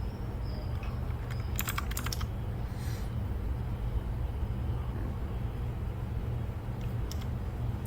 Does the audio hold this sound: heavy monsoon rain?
no